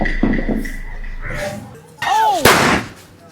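Diwali firecrackers go off in two sharp bursts, the second a loud crack, with voices chattering around them at a festive celebration.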